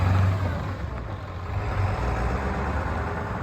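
A 1997 Ford F-350 4x4 with a 7.3L diesel engine and dual rear wheels runs close by with a steady low rumble that swells slightly as it moves through the gears.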